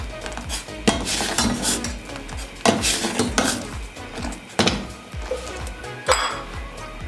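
Sugar, almonds and pistachios are stirred into Kashmiri pink tea in a pot, with a metal spoon scraping, clinking and knocking against the sides in a loose rhythm, close and fairly loud.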